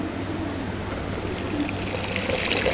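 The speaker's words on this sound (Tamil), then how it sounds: "ஸோ நெக்ஸ்ட்டு என்ன பண்ணுறோம் அப்படின்னா தண்ணி ஊற்றுறோம்" Water pours steadily into a large vessel while homemade mango juice is made, an even close rushing and trickling stream that holds constant throughout, with no talk.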